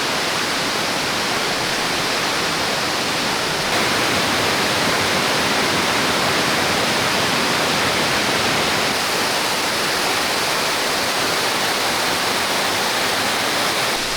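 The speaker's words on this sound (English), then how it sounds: "We have made it to the falls. It's rushing." A waterfall in Savage Gulf, Tennessee, swollen after several days of rain, roars in a loud, steady, unbroken rush of white water from close by, with no voices.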